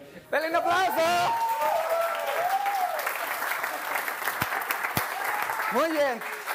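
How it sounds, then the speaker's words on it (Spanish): A church audience breaks into steady applause that holds for several seconds, while a voice speaks over the clapping. "¡Dale un aplauso!"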